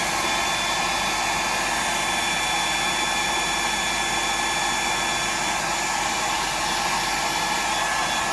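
A hair dryer blows steadily and loudly to dry fresh paint on a Bug DD fishing lure, a constant whooshing roar with a faint high whine that holds unbroken from start to finish, with no voices.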